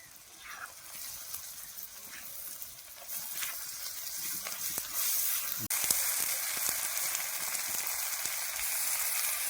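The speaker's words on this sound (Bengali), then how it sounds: "ভালো করে কষে নিই বাবা।" Spices and chopped tomato fry in a pan, giving a continuous close sizzle and hiss that grows louder partway through, with faint stirring scrapes beneath.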